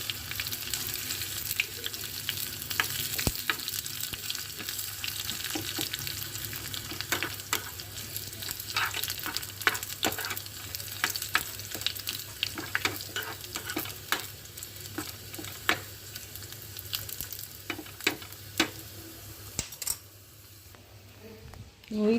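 Bay leaf and dried red chilies frying in oil as tempering for khichuri, a soft continuous sizzle with frequent stirring scrapes and clicks, fading near the end.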